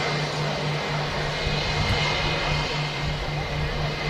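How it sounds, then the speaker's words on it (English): A Saudi Boeing 787 Dreamliner on short final into Manchester Airport makes a steady, loud engine roar with a low drone, continuous throughout without a break. "I think it's the Saudi Dreamliner about to touch down as well on short final at the moment."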